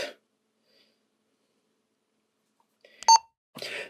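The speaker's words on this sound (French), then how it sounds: "C'est quoi ce bip bip?" A short electronic beep sounds once in a quiet room, a sharp, bright tone that ends quickly, with faint breathing or shuffling just before it and a soft noise right after.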